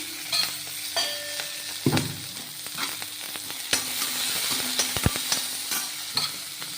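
Steady sizzle of curry leaves frying in hot oil, with a sharp burst of crackling spatter near the start and occasional stirring clinks.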